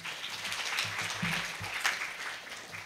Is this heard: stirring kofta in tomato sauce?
no